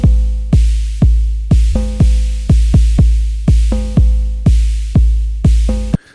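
Drumbrute analog drum machine looping a steady pattern with the hi-hat muted: punchy booming kicks and ringing tonal drum hits repeating in a regular rhythm, loud and dry, stopping abruptly at the end.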